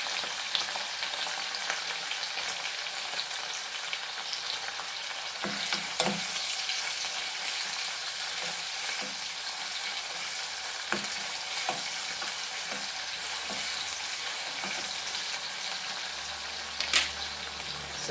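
Beef keema mince fries in a pan with a constant crackling sizzle. Occasional scrapes and stirs cut through the noise.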